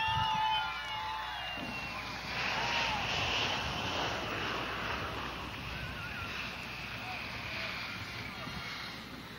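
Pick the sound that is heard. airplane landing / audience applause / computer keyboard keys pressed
airplane landing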